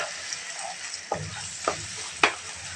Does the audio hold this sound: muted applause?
no